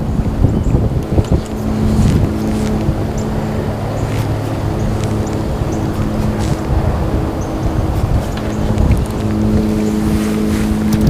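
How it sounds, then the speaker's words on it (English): Wind from the north-northwest blows steadily across an open fishing spot, a constant rushing buffet against the microphone with a low engine-like hum running beneath. "Comes that wind."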